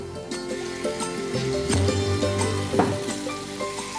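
Bommidayalu fish sizzle and crackle as they fry in hot oil with spices, a steady close frying hiss broken by stirring clatter and occasional louder pops.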